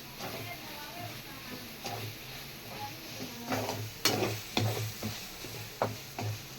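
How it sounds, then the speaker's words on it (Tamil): Pirandai pickle with tamarind cooking in oil, a soft sizzle under irregular stirring scrapes and clinks against the pan, close and quiet, with sharper knocks toward the end. "இப்போ புளி ஊற்றிக்கலாம் நல்லா எண்ணெயிலே வேகணும்"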